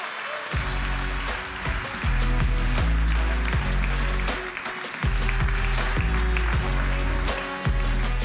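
An event audience on a main stage applauds to welcome a Mercedes-Benz vice president, steady clapping running under loud, pulsing walk-on music with a heavy bass beat.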